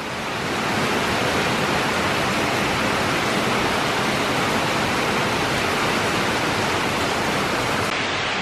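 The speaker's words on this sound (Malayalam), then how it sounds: "മഴ പെയ്യുന്ന കാണിച്ചു തരാവേ." A downpour of heavy rain roars continuously and loudly, a broad steady hiss with no pauses and no one speaking.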